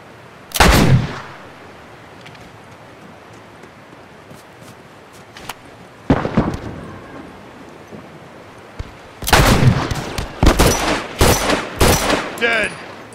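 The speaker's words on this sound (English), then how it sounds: "He's got a rifle over there!" Rifle gunfire in the video game The Last of Us Remastered: a loud shot early on, another burst mid-clip, then a rapid cluster of several sharp reports near the end, with quieter gaps between.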